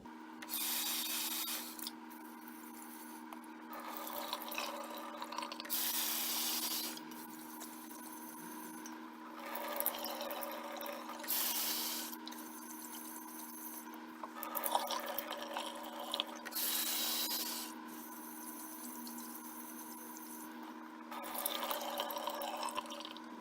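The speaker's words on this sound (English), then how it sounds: "Place 1 cup of rice into a bowl and wash it 5 or 6 times." Rice grains swish and rub against a bowl in water during rice washing, coming in repeated bursts of scrubbing with brief quiet gaps, close and fairly soft.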